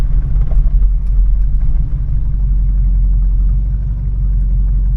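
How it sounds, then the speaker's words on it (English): A 1986 Chevrolet Suburban sits idling in gear on a driveway at about 600 RPM, giving a steady, close, low rumbling engine drone with a slight uneven pulse and no talking. "Sitting on the driveway idling in gear, about 600 RPM."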